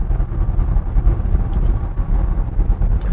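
A Land Rover Range Rover Vogue accelerates hard through a curve, heard from inside the cabin as a loud, steady low engine drone and road rumble with no break.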